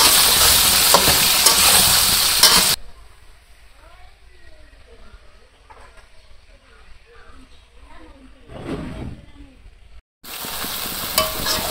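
Mango pieces frying with salt and turmeric for a village-style sour mango pickle, a soft sizzle and occasional stirring in the middle stretch, framed by louder bursts of noise at the start and end.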